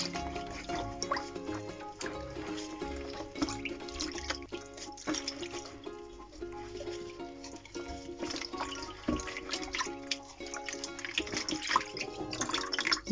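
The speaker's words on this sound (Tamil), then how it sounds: "அதை அப்படியே அந்த தண்ணியில் கலக்கி போட்டு அதில் வடிவாக கழுவி எடுக்க போகிறோம் மீனை." A whole fish is washed by hand in turmeric water, with steady close splashing and dripping throughout, sloshing in uneven bursts with no talking.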